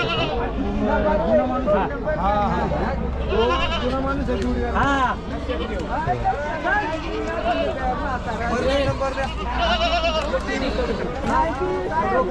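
Several goats bleat repeatedly in overlapping calls, close and loud, at the large Chakan goat and sheep market in Maharashtra, over a steady low hum with voices murmuring in the background.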